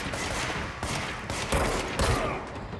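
Heavy video-game gunfire fills the moment with a dense, loud barrage of rapid shots, punctuated by a few sharper blasts, close and continuous with no talking over it.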